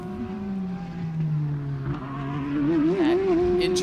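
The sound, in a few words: race car V8 engine at speed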